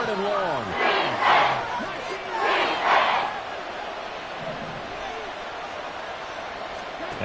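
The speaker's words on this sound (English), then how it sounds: "This crowd turning up the decibel level." A stadium crowd in a Madden football video game roars in two swelling waves, then settles into a constant background din while a commentator's voice talks over it.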